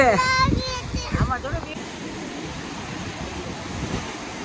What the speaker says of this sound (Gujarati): આ દરિયાનો જ અવાજ એટલો આવે છે